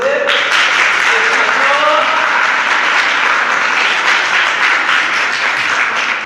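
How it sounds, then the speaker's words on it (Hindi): Sustained applause from a group of female students at a yoga session, steady and loud throughout with a few voices calling out briefly near the start. "तो ताली बजा दो।"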